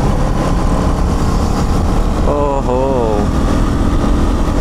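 A 2024 KTM Duke 390 motorcycle rides at night with a continuous close engine drone and wind roar. Someone speaks briefly over the engine partway through.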